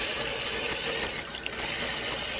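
Water pours steadily from a tap into a container, a constant close rushing stream with slight shifts in tone as it fills, with no voices.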